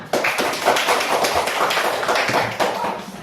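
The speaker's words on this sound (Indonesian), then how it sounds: "Oke, tepuk tangan." A small group claps hands together during a classroom exercise, a quick irregular patter of close, lightly overlapping claps lasting a few seconds without talk.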